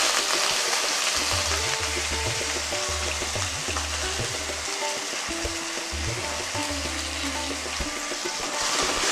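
Onion, green chilli and chopped garlic frying in oil for a shrimp dopiaza, a steady dense hissing sizzle that stays even throughout, with a low hum underneath and no speech.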